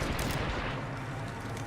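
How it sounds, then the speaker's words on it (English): Shooter video game gunfire, a rapid, continuous automatic burst sounding loud and close for under two seconds. "Opening fire on the enemy."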